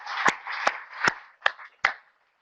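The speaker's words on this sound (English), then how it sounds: "let's give them a round of applause" A few scattered hand claps from an audience greeting parents at a university study-abroad orientation, five sharp separate claps over low room murmur, fading to silence.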